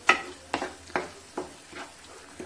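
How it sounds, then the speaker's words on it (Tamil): Ground spinach puree being stirred in a hot frying pan for palak paneer, with about six soft scraping strokes of the spoon at a steady pace, each followed by a light sizzle, close and fairly quiet. "இப்போ இதையும் வந்து நம்ம நல்லா மிக்ஸ் பண்ணி விட்டுடலாம்."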